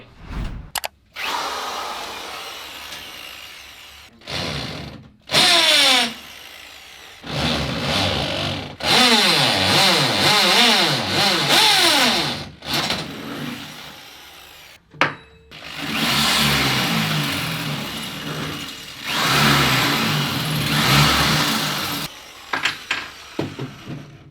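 A power drill drives bolts into a storage shelf to fix a mount on both sides, in loud, close bursts that whine up and down in pitch as each bolt tightens, separated by short silent gaps.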